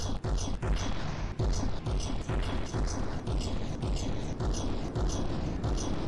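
Guns on a vessel in the naval combat game From The Depths fire in a rapid, uneven barrage, with many sharp booming reports stacked closely over several seconds and the volume staying loud throughout.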